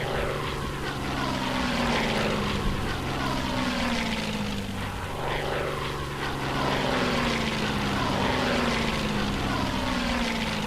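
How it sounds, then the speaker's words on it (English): Propeller aircraft drone steadily overhead in the wartime strategy game Hex of Steel, a continuous loud engine hum with slowly shifting pitch, as if planes pass and circle, with no talking. "Planes are going back to their airfields in Warsaw."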